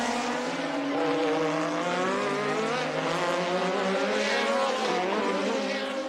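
A 1983 Formula 1 Ferrari race car driven by Arnoux on a lap, its high-revving engine loud and continuous, with the pitch sweeping up and down through gear changes over about six seconds.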